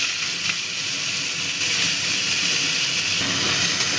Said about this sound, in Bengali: এবার দিয়ে দিচ্ছি এর মধ্যে পেঁয়াজ।